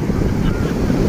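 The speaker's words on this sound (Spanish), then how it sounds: "De pronto vienen olas grandecitas" Waves break and surge at El Morro beach under heavy wind buffeting the microphone, a loud, rumbling low roar of surf close by with a voice speaking briefly over it.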